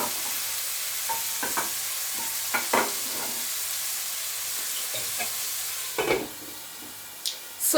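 Diced tomatoes sizzle and fry in a pan for a Nigerian-style stew, a soft steady hiss broken by scattered stirring scrapes and clinks.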